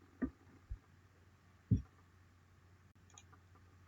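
Quiet keyboard clicks from pressing a save shortcut sound as a few sparse, close taps, with faint low room hum between them.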